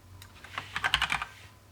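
Computer keyboard keys being typed, a quick close cluster of light plastic clicks tapping in an uneven rhythm, with no voices.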